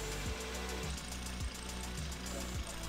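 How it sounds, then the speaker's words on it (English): Volvo XC90 engine idling after PCV system repair, a steady low rumble with a regular throbbing pulse roughly every half second, continuous and close, with no voices. "After letting the engine idle for a while, I looked around and there were no leaks"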